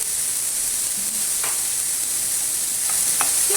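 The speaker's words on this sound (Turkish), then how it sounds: "soğanımız güzelce kavrulacak" Chopped white onions sautéing in a frying pan, a steady soft sizzle running throughout with a few faint stirring clicks, close and alone without talk.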